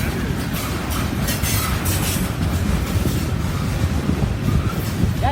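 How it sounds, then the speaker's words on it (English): A freight train rolls past close by, a loud continuous rumble of railcars with rhythmic clatter from the wheels and a faint squeal near the end. "This train came from up north."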